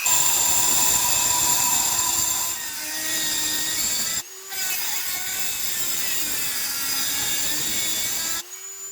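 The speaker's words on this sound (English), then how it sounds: "these are carbide burrs, really good tool. Stick them in a Dremel, another great tool." A Dremel rotary tool fitted with a carbide burr grinds scrap metal and cutlery, giving a steady, close, high-pitched whine whose pitch sags and recovers under load, with two brief cutoffs.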